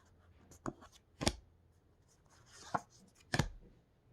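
Tarot cards are flipped through by hand, giving several soft, sharp papery slaps and snaps spaced unevenly over a few seconds, close and quiet, with faint rustling between them.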